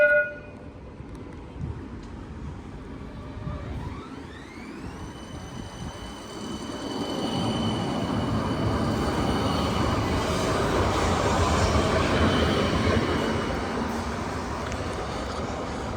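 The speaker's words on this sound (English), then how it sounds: "I am currently at Prince Alfred Square light rail stop on the L4 Westmead and" Light rail tram at the Prince Alfred Square stop in Parramatta on the L4 Westmead and Carlingford line, with a rising electric motor whine and a steady rolling rumble that builds as the tram draws near, over outdoor street ambience.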